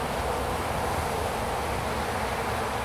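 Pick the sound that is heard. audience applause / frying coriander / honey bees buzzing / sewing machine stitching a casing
honey bees buzzing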